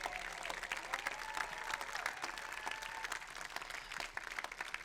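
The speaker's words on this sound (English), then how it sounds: "Can we give them a round of applause, all their hard work?" An audience applauds Canyon Lake city staff at a State of the City event, steady clapping with scattered cheers and a few voices mixed in.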